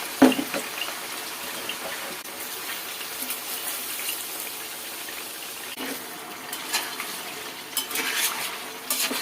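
Eggplant slices sizzle in hot oil in a home kitchen, a steady broadband crackle and hiss that carries on without a break, with no voices over it.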